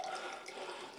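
Water runs in a brief, soft, steady splashing pour, as when a glass is filled with water to drink, in an indoor drama scene.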